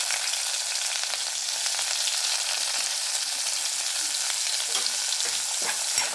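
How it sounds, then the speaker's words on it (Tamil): Chopped large onions sautéing in a pan with mustard seeds and curry leaves for a tomato thokku, a steady close sizzle and crackle with occasional stirring scrapes, no voices. "இது நல்லா கோல்டன் ப்ரௌன் அளவுக்கு நல்லா வதக்கணும்"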